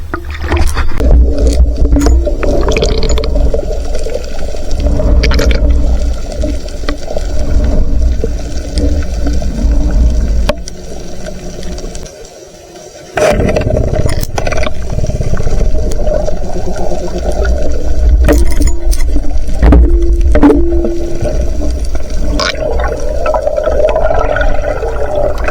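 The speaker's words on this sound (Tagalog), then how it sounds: "Malakas yung agos." Strong river current rushes around a small boat, a continuous loud churning wash of water with a brief dip in the middle, heard alone without voices.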